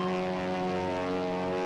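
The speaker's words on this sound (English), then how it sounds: "There is a plane behind us." A propeller plane flies close behind in a film scene, its engine giving a steady, loud droning hum with strong tonal harmonics that holds constant throughout.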